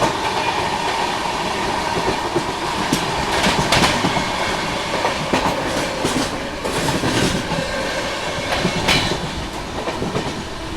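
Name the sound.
Brahmaputra Mail express train passing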